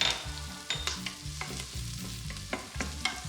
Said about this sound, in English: then I'm just going to throw in the garlic. Have a little stir around.